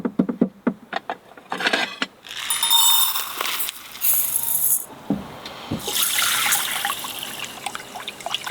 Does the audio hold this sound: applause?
no